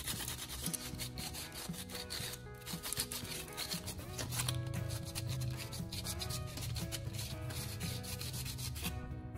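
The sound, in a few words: sanding the ends of copper wire to remove insulation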